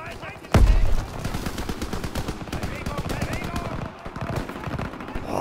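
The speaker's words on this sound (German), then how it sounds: "Da wird geschossen!" Rapid automatic gunfire in Call of Duty: World War 2, a sustained close burst of shots opening with a heavy blast, with a voice talking over the shooting.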